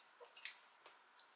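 Scissors snip through 4C natural hair during a tapered-cut trim, a few quiet, brief crisp clicks spaced apart, close up and faint, with no talking.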